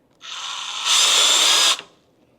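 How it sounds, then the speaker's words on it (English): A small drill bit bores a hole into a leather-covered backrest for a Honda VT750 motorcycle in a workshop, one close, steady whirring burst that grows louder and harsher midway before stopping abruptly, with no talking. "I'll take a small drill bit, and I just want to kind of run me a hole in there"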